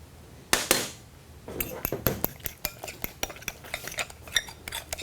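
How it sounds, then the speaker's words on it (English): A utensil lightly whisking egg in a bowl before cornstarch goes in for oven-fried catfish: a sharp clink, then a run of quick, fairly even taps and scrapes against the bowl, close and moderately quiet. "We're going to lightly whisk it."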